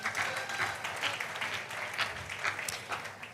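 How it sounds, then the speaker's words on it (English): An audience at a Nigerian panel forum gives a brief round of applause for a university team, the clapping fairly soft and distant, with dense overlapping claps for about three seconds. "Please, a round of applause for them."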